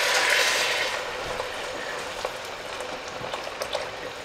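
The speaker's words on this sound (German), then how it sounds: "Und da gieße ich das schon mit Wasser auf." Water poured onto homemade vegetable paste in a cooking pot starts to bubble and simmer, a soft fizzing crackle that fades from an initial splashy rush into light, scattered pops, with no talking.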